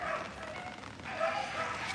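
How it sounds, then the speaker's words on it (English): Dogs scuffle and bark in the distance outdoors during rain in the Philippines, with faint yips and whines mixed into a steady wash of background noise. "Sounds like we got a dog fight over here."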